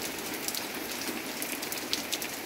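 Steady winter rain on a rainy Sunday pours down in an even, continuous hiss with scattered louder drops pattering on surfaces, moderately quiet and uninterrupted, with no voices.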